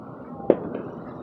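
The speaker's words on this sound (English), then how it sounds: "This is July 4th, guys. There's our fireworks." A Fourth of July firework bursts with a single sharp bang near a hospital, a moderately distant boom with a short rumbling tail over quiet background.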